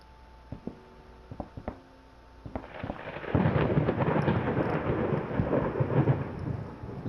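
Steady rain in the video game Layers of Fear hisses and patters, building after a few scattered clicks and knocks, with a low rumble underneath.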